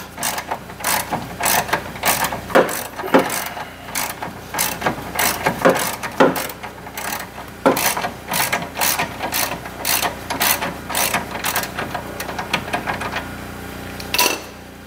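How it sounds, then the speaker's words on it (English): A hand ratchet chases threads on a Morris 1100S front end, clicking in short repeated strokes, each burst a quick run of sharp metallic pawl clicks with brief pauses between, close and clear. "I need to chase threads on this thing."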